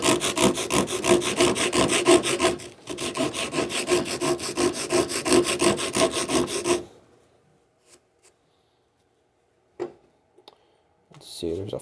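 A WoodRiver riffler rasp files wood in steady, rapid scraping strokes, loud and close for several seconds, then stops, leaving near silence broken by a few faint clicks and a short burst of handling.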